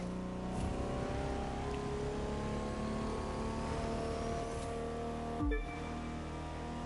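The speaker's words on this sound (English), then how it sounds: "It accelerates insanely quick. We're already going 200 miles per hour." A Koenigsegg Gemera with a three-cylinder engine accelerates hard in The Crew 2, a sustained high-pitched engine whine climbing through the gears, with a short gear-change dip near the end.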